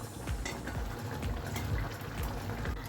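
Mustard paste curry for a fish dish bubbles and boils in a pan, a dense, continuous close-up simmer with small popping bursts throughout.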